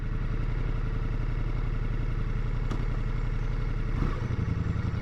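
Ducati Multistrada V4S engine idling in neutral after stopping in first gear, a steady throbbing low rumble with fine clattering pulses, close and constant, with a brief bump near the end and no talk.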